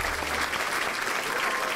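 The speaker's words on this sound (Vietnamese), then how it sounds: "Chúng ta cho một tràng pháo tay để chúc mừng cả 3 đội quý vị." Studio audience applause congratulating three teams on a Vietnamese family game show, a brief burst of steady clapping from many people at moderate volume.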